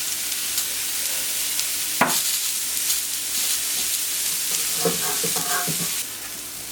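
Giant prawns coated in cajun spices sizzle in olive oil in a pan, a steady close frying hiss with a few stirring knocks and clatters, no talking.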